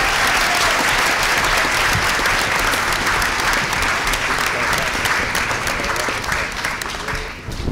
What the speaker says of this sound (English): how about a round of applause for all the award winners tonight?